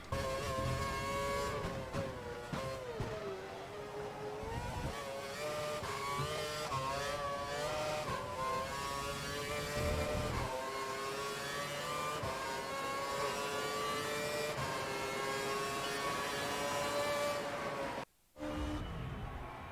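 Formula 1 race car engines in the video game F1 2012 at the Australian Grand Prix, a loud sustained high-pitched whine rising and falling through gear changes, with a brief dropout near the end.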